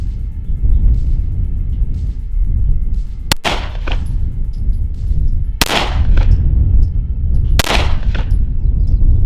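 Three sharp, loud shots from a Browning Hi-Power pistol at a shooting range, spaced roughly two seconds apart, each cracking over a steady low outdoor rumble.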